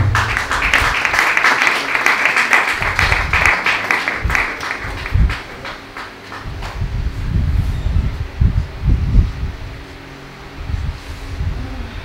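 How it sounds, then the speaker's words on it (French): Audience applause at an entrepreneurship masterclass, a steady dense patter of clapping that fades after a few seconds into quieter rustling and thumping room noise. "sous vos applaudissements"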